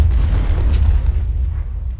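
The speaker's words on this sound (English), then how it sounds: "Cannons are disrupting them quite a bit." Cannon artillery fire in the Ultimate General: Civil War video game, a dense rumbling barrage of low booms rolling on continuously with sharper bursts around the middle, loud and close.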